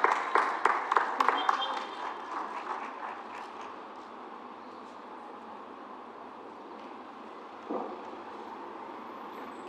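A small audience at an Oral Health Month launch gives a brief round of applause for students. Crisp clapping starts at once, then quickly thins and fades into quiet room tone.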